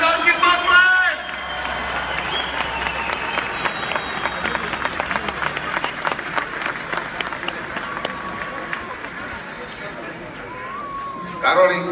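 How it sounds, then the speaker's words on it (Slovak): Large crowd applauding and clapping at an outdoor protest rally in Slovakia, a dense steady wash of claps lasting throughout with a swell at the start and end, chatter mixed in. "Jeden veľký potlesk!"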